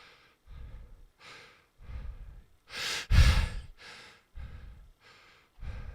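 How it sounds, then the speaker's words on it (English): Slow, deep diaphragmatic breaths, each a soft airy inhale or exhale with pauses between, one much louder breath near the middle, close and alone with no talk. "But if I breathe diaphragmatically"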